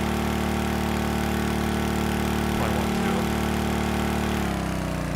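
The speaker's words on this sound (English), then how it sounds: "it's idling at a bit higher than RPS than it was at 18" A modular engine with electronic fuel injection in the video game Stormworks idles steadily at raised revs, producing a constant, even drone with no pauses or talking.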